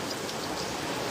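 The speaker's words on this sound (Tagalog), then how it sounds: "Ang lakas ng ulan dito." Heavy rain pours steadily as a dense, even hiss with a scatter of sharper drops, close and continuous throughout the short stretch.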